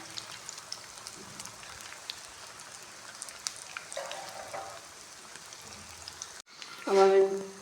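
Potato kofta frying in overheated ghee, a steady crackling hiss under low kitchen noise, with a brief louder burst of sizzle near the end after a short break.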